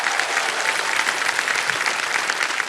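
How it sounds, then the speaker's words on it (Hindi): Steady, dense studio applause greets a female contestant on the KBC quiz show set, filling the room evenly for the whole stretch without any voices over it. "जोरदार तालियां बज जाएं इनके लिए"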